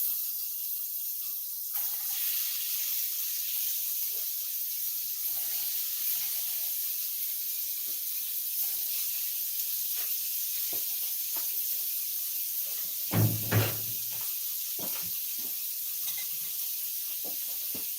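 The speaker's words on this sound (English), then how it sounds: "I'm going to go ahead and add this chicken to this pan." Cut-up chicken pieces hit a hot pan and sizzle in a bright, continuous hiss that holds steady throughout, with a few small clanks and a louder clatter of utensils near the end.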